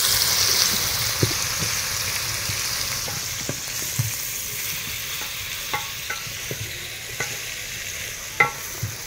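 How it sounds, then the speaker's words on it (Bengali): About 400 grams of onions fry with spices in a pan for egg biryani, a soft steady sizzle broken by sharp scraping taps of a spatula, close and without talk. "এই পেঁয়াজটাকে এখন আমি একটু ভেজে নেব খুব সুন্দর করে মশলার সঙ্গে।"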